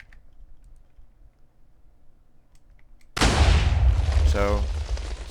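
A Minecraft TNT cannon fires once in a sudden loud boom that rolls on into a sustained, decaying rumble with a rattling crackle, after several seconds of quiet low-level sound.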